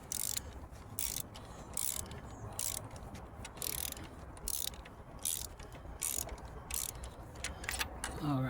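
A ratchet wrench clicks in steady bursts as it turns and tightens, its sharp, close metallic ratcheting repeating in regular strokes with short pauses between, alone without talk.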